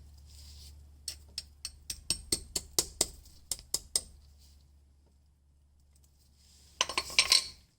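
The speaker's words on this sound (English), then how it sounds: "I think I can get the screwdriver and actually literally get the lid off" Metal screwdriver tapping and prying at a stuck Jeep differential cover, about a dozen sharp, evenly spaced metallic clinks close up, then a pause and a brief louder scraping clatter near the end.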